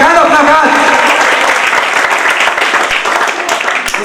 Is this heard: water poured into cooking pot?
no